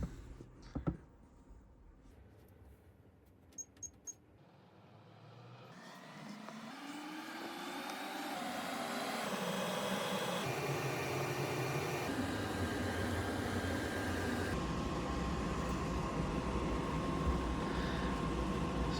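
A Hisense 12000 BTU window air conditioner switches on and spins up to its high setting, starting with a few clicks before a whoosh of fan and compressor rises into a steady, broad airflow hum that keeps running.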